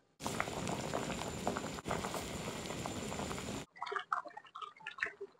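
Rice for mushroom biryani bubbles at a rolling boil in a pot, a dense close gurgling roar that stops abruptly, followed by a few quieter drips and clinks.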